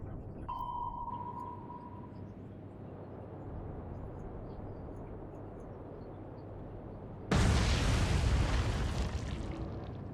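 Main guns of the battleship King George V fire in the naval game Atlantic Fleet, one loud broadband blast near the end that rings out over a steady low ambient rumble with a faint tone earlier.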